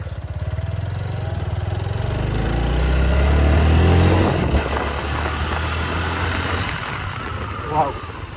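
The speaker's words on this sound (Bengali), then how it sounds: "ইঞ্জিন সাউন্ডটা দেখো ভাই, 1 বছর পরেও কিন্তু টর্কটা সেই আগের লেভেলে আছে।" A motorcycle engine runs steadily after starting, with a low, continuous rumble that swells slightly midway and stays close and fairly loud throughout.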